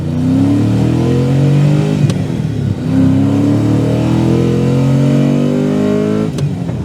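A V8-swapped Nissan Skyline R34 revs loudly and accelerates through the gears, the engine note climbing twice with a brief break for a shift, close and steady with no talking.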